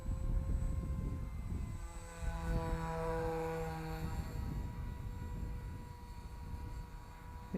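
A homemade foam RC plane flies at full throttle, its small motor a thin buzzing drone that swells as it passes and then fades off into the distance.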